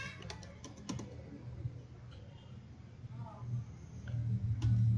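Computer keyboard keys being typed in a few quick clicks, with one firmer press near the end, while a voice talks over a low steady hum.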